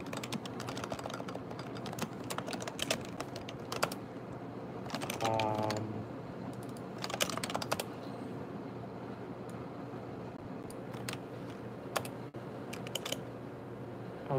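Fingers tap steadily on a computer keyboard at close range, a continuous patter of quiet clicks with a few louder bursts of rapid keystrokes over a faint background hum.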